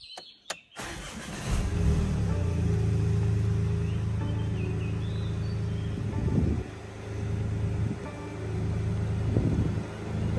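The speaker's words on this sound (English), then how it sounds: "Very nice startup." A 2021 BMW 218i Gran Coupe engine cranks and fires after a starter click, settling into a steady close idle rumble with a few small rises in revs, no talk over it.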